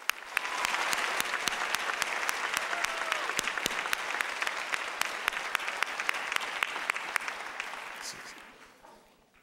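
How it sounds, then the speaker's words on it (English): Applause from the audience at a 2006 high school commencement, a broad steady wash of many hands clapping in a large hall with some sharp nearby claps standing out, sustained for several seconds before fading away at the end. "Let's give her a round of applause"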